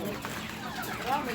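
White Belarusian-breed chickens cluck at a livestock market in Bishkek, brief soft clucks heard faintly under nearby talking.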